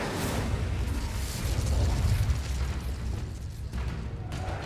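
An Incendio fire spell is cast in Hogwarts Legacy, giving a loud, sustained fiery roar with rumbling low end that holds steady for several seconds before thinning out, with no voices over it.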